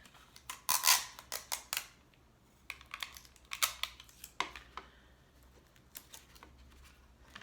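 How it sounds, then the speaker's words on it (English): Scissors snipping through foil while making pendants, a series of sharp close cuts in irregular clusters, the crispest near the start and quieter snips afterward. "I'm going to cut off the extra foil here and the extra foil here"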